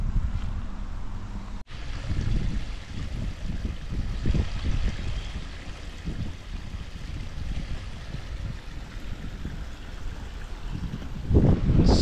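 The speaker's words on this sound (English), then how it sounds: "Enjoying the sound of the river." River flowing in old Bisbee, Arizona, a continuous low rushing of water with some wind buffeting on the microphone, steady and fairly close throughout.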